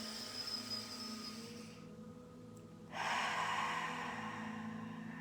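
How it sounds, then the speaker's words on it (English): Slow, deep breathing as part of a breathing exercise, heard close up: a long drawn inhale, a brief pause, then a strong airy exhale that fills the quiet room. "So spheric breathing."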